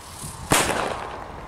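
One sharp, loud bang from a Donnervogel Kaliber C firework goes off outdoors, followed by a short, fading rumble.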